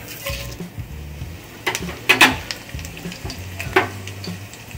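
Dried red chilli, cumin and mustard seeds crackle and sizzle in hot oil while a utensil stirs and scrapes the pan, with a few sharp clinks against metal.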